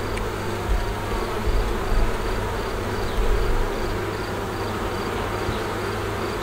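Honeybees swarm over a beehive frame in an apiary, a dense, continuous buzzing drone that stays loud and close throughout with no talk.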